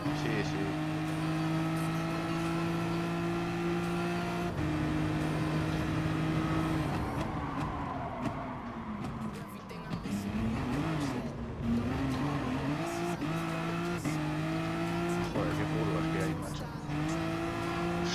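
Race cars in the Gran Turismo Sport video game, a Mercedes one-make competition, roar steadily with sustained engine drone, shifting pitch and brief tire squeals, while people talk and laugh over the game sound.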